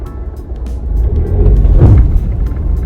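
Interior of a manual car while driving: a low engine drone that swells as it revs through a gear change, close and steady with faint rattles.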